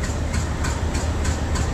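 A train pulls away in Train Simulator Classic, the Garib Rath Express scenario: a steady low engine rumble with soft rhythmic thumps repeating roughly every third of a second, with no voices.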